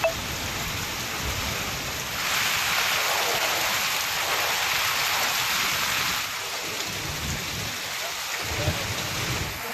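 Heavy rain pours steadily in Tamil Nadu, making a dense, continuous hiss that swells louder midway and then eases back, with faint low rumbles underneath.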